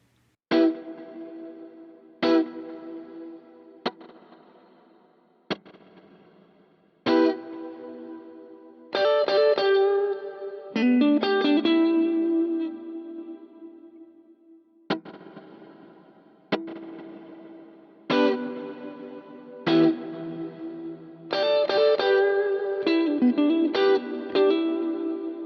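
Electric guitar played through a Plex delay effect, single plucked notes and short chords ringing out alone with repeating echoes that trail and decay between strikes, some phrases overlapping into a wash of repeats.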